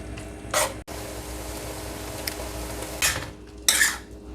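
Fried tofu is stirred and scraped in a pan to heat it, with metal utensil scrapes and clinks against the pan in irregular bursts over a steady low hum, close up and without talk.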